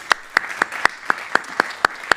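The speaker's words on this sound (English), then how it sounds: "How about another round of applause for all of our Division I finalists?" Applause in a hall after a trombone jazz solo competition, heard as about nine separate, evenly spaced sharp claps standing out clearly.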